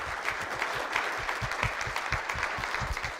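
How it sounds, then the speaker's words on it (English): An audience at a university keynote event applauds Ambassador James Pardew with sustained, even clapping of moderate loudness and no speech over it. "please give a round of applause to Ambassador James Pardew"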